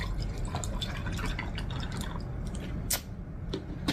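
Water poured into a big glass packed with ice, a steady close trickle with faint clinks from the ice.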